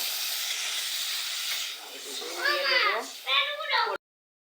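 Broth poured into a hot pan of potatoes and spices for a paneer curry sizzles with a loud, steady hiss that fades after about two seconds, then a voice speaks over the softer simmer.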